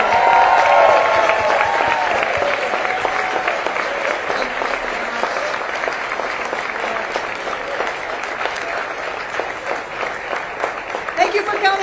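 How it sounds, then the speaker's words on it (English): Sustained crowd applause at a political rally in Pennsylvania, a loud, dense wash of clapping that holds steady for several seconds with scattered cheers, fading slightly before a fresh burst at the end. "let's give them another round of applause"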